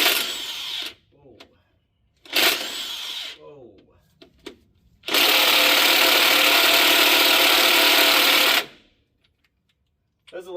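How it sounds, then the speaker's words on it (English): A DeWalt DCF900 impact wrench driving a regular socket hammers loudly and steadily for about three and a half seconds, preceded by two short harsh bursts and some handling clatter. "Here's what happens when you use a regular socket with a DCF 900."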